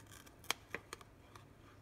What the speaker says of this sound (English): I'm going to get my scissors and trim that off right there at the edge